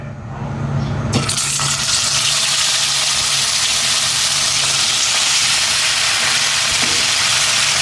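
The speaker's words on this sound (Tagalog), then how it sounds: "iprito ko na itong tilapia." Tilapia frying in hot oil: after a quiet first second, a loud, steady broadband sizzle sets in and holds without a break.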